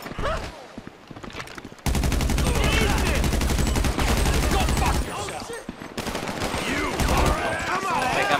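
Gunfire in GTA V story mode: long rapid machine-gun bursts, loud and close, with a short pause between them, while someone talks excitedly over the shooting.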